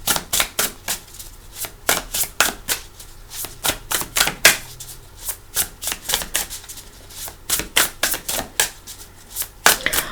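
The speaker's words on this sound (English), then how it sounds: "I'm just going to take one more shuffle" Tarot cards are shuffled in quick bursts of crisp riffling snaps and slaps, close and clear, with irregular pauses between groups and no talk.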